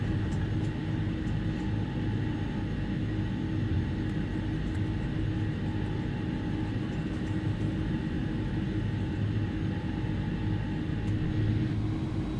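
Simulated iniBuilds Airbus A300 taxiing to the gate in X-Plane 11, a steady low engine rumble and whine droning continuously and evenly, with faint clicks from the cockpit.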